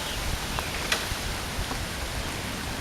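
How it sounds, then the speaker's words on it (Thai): Rain easing off after a hail storm at Mae Taeng, Chiang Mai, a steady soft patter of drops with a few faint isolated ticks. "ฝนเริ่มจะหยุดนะครับ"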